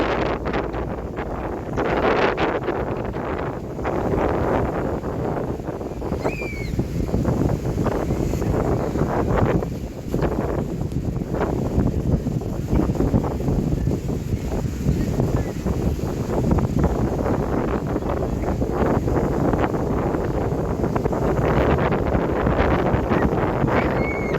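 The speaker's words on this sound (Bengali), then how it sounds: "প্রচণ্ড পরিমাণে বাতাস ছিল সেটা আপনারা শুনেই বুঝতে পেরেছেন" Strong wind buffets the microphone in loud, rumbling gusts throughout, with faint chirps in the background and no talking.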